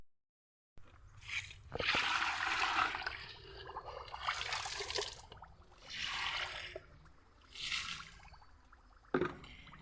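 Water diluted with a solution is poured onto a marigold plant in repeated bursts, producing close, steady splashing and trickling broken by short pauses, with no talk.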